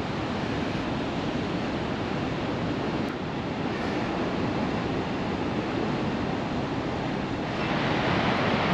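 Large ocean waves roll in and crash against the rocky Newfoundland shoreline near Twillingate, a steady, loud broadband roar of surf and wind with no voices.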